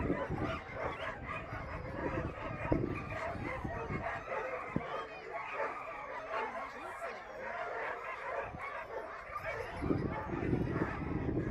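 Sled dogs bark and yip in a dense, continuous chorus at the start of an eight-dog race in Tok, Alaska, with a 27-dog kennel team among them, while an announcer talks over the steady din.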